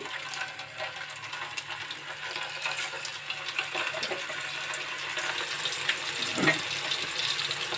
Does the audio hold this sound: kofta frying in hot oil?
yes